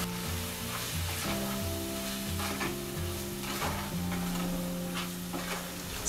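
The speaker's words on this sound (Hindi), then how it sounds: "सारे सामग्री को हम अच्छे से मिक्स करेंगे।" Tomato, chilli powder and salt being stirred in a pan for a green pea and potato curry, with a steady sizzle and scraping strokes throughout, close and moderately loud, no voices.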